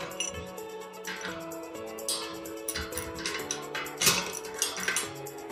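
A bicycle wheel bearing being tightened to remove play, with a busy run of light metallic clinks, ticks and taps from tools on the hub, close and irregular throughout.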